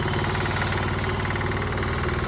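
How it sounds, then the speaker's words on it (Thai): An old Japanese Maruyama diesel sprayer engine with electric start idles unrevved: loud, close, steady rapid knocking chug with a rough mechanical rattle throughout, with no talk. "อันนี้เครื่องไม่ได้เร่งครับ เครื่องไม่ได้เร่งนะดู"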